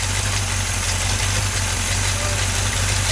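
Freshly installed engine in a 1966 Chevy truck idles close and loud, a steady, even rumble with no voices over it.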